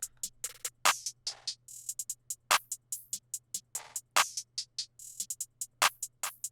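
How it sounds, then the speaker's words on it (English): A looping electronic beat of sharp, bright percussive hits in a quick, uneven rhythm, snare-like cracks repeating over a low steady hum. "Then we have another snare."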